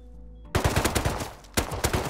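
Gunfire in the survival game Rust during a base raid, with two loud, close bursts of rapid automatic shots separated by a brief gap and no talk over them.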